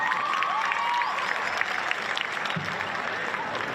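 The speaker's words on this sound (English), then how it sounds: "Round of applause for y'all." Audience applause for a graduating class of 2025 at a school ceremony, a dense burst of clapping that starts strong and gradually thins, with a few cheers mixed in.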